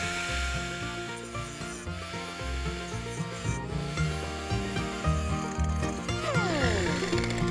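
A steady grinding, rasping cut through a goat's horn scur, continuous and close, with a harsh scraping texture throughout.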